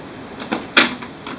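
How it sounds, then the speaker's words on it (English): The exterior door of an HP Ink Tank Wireless 410-series printer is opened, giving a light plastic click followed by a sharper snap, both close and brief. "first open up the exterior door of the printer"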